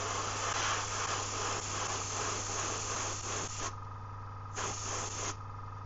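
An airbrush sprays liquid gold paint onto a small 3D-printed trout fishing lure, a steady close hiss that runs without a break and then cuts out in two short gaps near the end.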